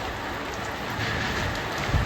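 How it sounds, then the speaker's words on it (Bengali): Steady rain falling on a cold day, a soft continuous wash of patter heard at a distance, fairly faint, with no voices. "আর একদম ঠান্ডা, দেখতে পাচ্ছেন বৃষ্টি একভাবে পড়ছে।"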